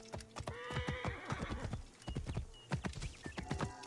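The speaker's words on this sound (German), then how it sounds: "das arme Pferd steckt fest." A horse in the video game Assassin's Creed Origins whinnies over rapid clip-clop hoofbeats, the neigh rising loud in the middle while hooves keep a busy, uneven rhythm throughout.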